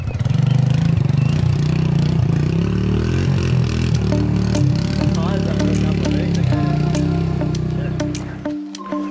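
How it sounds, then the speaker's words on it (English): A motorcycle engine idles steadily and loudly with a throbbing low rumble, then cuts off abruptly at the very end. "you can turn the bike off there"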